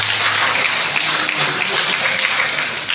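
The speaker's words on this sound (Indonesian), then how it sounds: "Kita berikan tepuk tangan buat Tuhan." A church congregation applauding, a dense, even patter of many people clapping together that carries on steadily throughout, close and loud.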